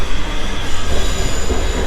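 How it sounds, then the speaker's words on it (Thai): Train rolling past close to a hotel in London, a loud heavy rumble with squealing wheels and rhythmic rail clatter filling the whole stretch without pause. "แต่ได้ยินเสียงรถไฟทั้งวัน"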